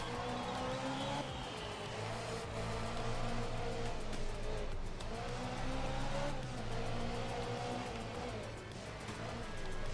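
A rally car engine in the Art of Rally video game drones and revs continuously, its pitch rising and falling as the car slides through corners, with faint tyre scrabble beneath, close and without voices.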